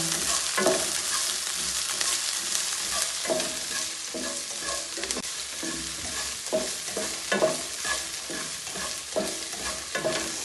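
Ginger, garlic and green chilli sauté in a pan while being stirred, steady broadband sizzle with repeated scraping stir strokes throughout, close and fairly loud, no talking.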